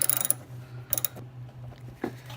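Hand wrench working on bolts holding the front of a Porsche 914 A-arm and torsion bar: a quick burst of ratcheting clicks, then a second short ratchet run and a single metallic clunk, close and fairly quiet.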